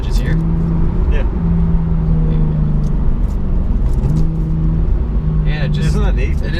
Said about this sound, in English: Do some rev matches here.